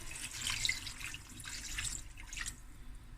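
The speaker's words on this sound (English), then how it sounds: "Add in 2 cups of water." Water running steadily from a tap into a pot of potatoes for lamb curry, a soft continuous splashing stream at close range with no voices.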